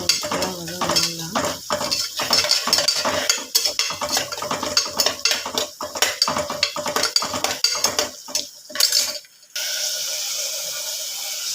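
Onions sautéing in a pan as a spoon scrapes and stirs in quick rhythmic strokes, metal clinking close up, before a brief pause and a steady hiss of frying alone.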